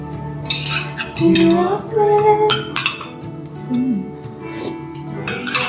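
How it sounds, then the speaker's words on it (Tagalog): Dishes, cutlery and a baby bottle clink and clatter close by as they are rinsed and handled, with water running and occasional squeaks, while someone talks intermittently. "maghugas ako ng mga pinggan, maghugas ako ng kanyang bote."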